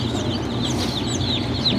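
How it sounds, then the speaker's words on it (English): Rhode Island Red chickens cluck on a farm in a busy overlapping chorus of short calls over a steady low background hum, close and continuous. "these are our produce, Rhode Island red chickens"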